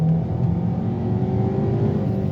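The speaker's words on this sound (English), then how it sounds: "So let's go ahead and do a wide open throttle" A Ford Escape engine with a stuck spark plug held at wide open throttle, a loud, sustained high-rpm roar with a steady whirring tone, close and continuous with no talk.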